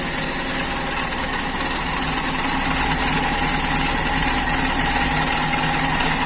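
A motorcycle engine idles smoothly and steadily after its standard carburetor has been adjusted, a close, loud, even hum that holds without rising or falling.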